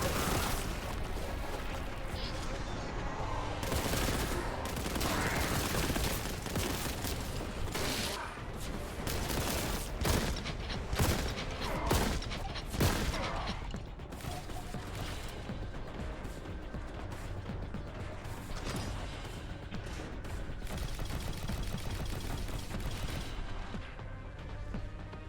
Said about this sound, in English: Not much could survive Boltgun fire